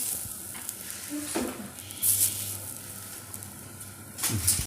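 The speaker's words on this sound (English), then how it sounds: "actually frying this coconut" Steady sizzling of freshly grated coconut frying in a pan, with occasional stirring scrapes and a brief louder hiss near the end.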